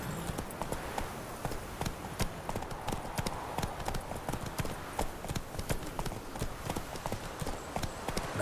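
Roach, the horse in the video game The Witcher 3: Wild Hunt, gallops with rapid, continuous hoofbeats over a steady outdoor ambience, close and driving throughout.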